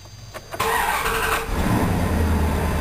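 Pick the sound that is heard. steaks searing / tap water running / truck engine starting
truck engine starting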